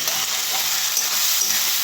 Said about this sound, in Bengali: তাই দেখুন ডালটা ভেজে নিলাম